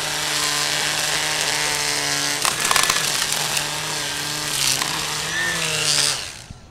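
Milwaukee M18 FUEL battery string trimmer cutting at steady high speed, a loud whining drone with harmonic tones that dips and surges as it meets material, then quickly winds down at the end, with no talking.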